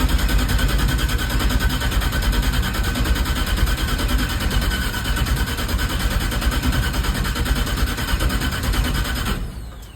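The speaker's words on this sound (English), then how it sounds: "the starter hasn't caught on fire yet" An LS engine swapped into a Ford F100 is cranked over by its starter, a steady, loud mechanical churning held for about nine seconds before it cuts off abruptly near the end.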